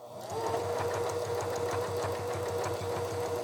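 A sewing machine stitches fabric, a steady, rapid mechanical chatter with an even motor hum that runs nearby without a break and with no speech.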